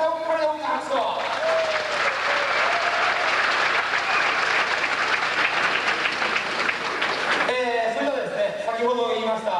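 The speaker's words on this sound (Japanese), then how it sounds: "皆さんもう一回これで大きな拍手を。" Large audience applause at a Japanese guitar heroes event, a loud sustained roar of clapping bracketed by someone speaking before and after.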